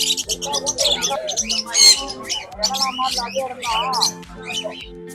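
Small caged birds such as sparrows and lovebirds chirp and squawk in quick, busy bursts at the Pallavaram Friday pet market, close by, with people talking among them.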